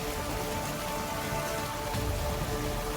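Heavy monsoon downpour in Raisen, a steady dense roar of rain on surfaces that stays loud and unbroken throughout, with no voices.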